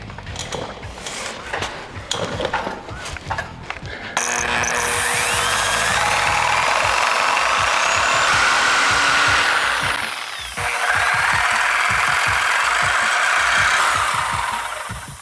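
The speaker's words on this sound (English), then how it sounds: "we're now going to cut our horizontal weld on the bottom" Power tool cutting through a horizontal weld on the bottom of a Jeep JK Wrangler front bumper crash bar: loud, steady, continuous metal-cutting whine after a few opening clicks, with a brief dip midway before resuming.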